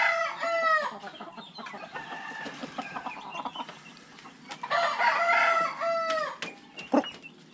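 A rooster crows loudly and close by, then crows again a few seconds later, while hens cluck steadily in a backyard flock during a morning routine.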